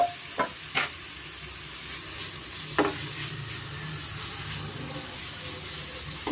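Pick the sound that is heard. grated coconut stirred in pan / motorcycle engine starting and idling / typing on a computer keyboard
grated coconut stirred in pan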